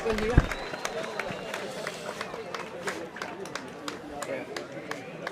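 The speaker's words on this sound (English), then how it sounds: "And cheers from the crowd." Crowd at an Orkney versus Shetland junior inter-county football match cheering at the final whistle, a thin, scattered cheer and claps from a small, distant crowd beneath a commentator talking.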